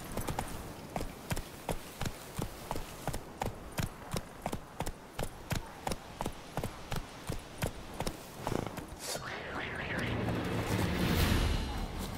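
Roach the horse gallops in The Witcher 3, a steady rapid clip-clop of hooves repeating evenly and close, then fading under a rising rumbling wash of noise near the end.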